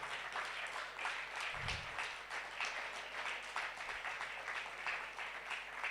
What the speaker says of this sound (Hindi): जोरदार तालियों के द्वारा